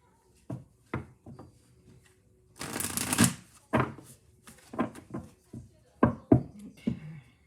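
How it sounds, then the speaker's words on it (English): Tarot oracle cards shuffled by hand up close, a series of crisp taps and soft card slaps with one longer riffling burst in the middle. "One more shuffle and we'll go."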